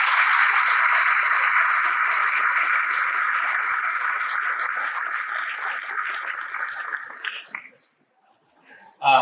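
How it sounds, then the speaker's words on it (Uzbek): Audience applause at a meeting and talk with a guest, a dense, steady round of clapping that carries on for about seven seconds and then dies away, with a brief voice at the very end. "Bitta qarsaklar bo'lsin."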